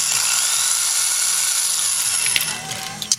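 A drill fitted with a 0.050 bit bores into a sandblaster wheel part, a steady high-pitched whirring grind running continuously and close, ending in a few sharp clicks and taps.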